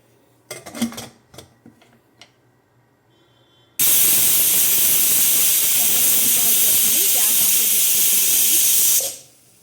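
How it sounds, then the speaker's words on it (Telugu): A loud, steady hiss of steam from a pressure cooker whistle blasts for about five seconds while raw mango tamarind soup boils, following a few clinks of kitchenware and murmured talk. "దీన్ని మనం టూ విజిల్స్ వచ్చే వరకు బాయిల్ చేసుకోవాలన్నమాట"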